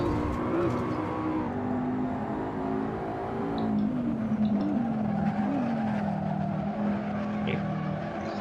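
Car tyres squealing in Assetto Corsa racing, a sustained wavering tonal screech over steady engine and road noise, rising and bending in pitch as the car slides.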